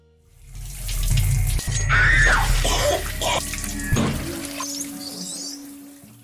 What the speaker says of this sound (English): She then goes to take a shower to get ready for the barbecue.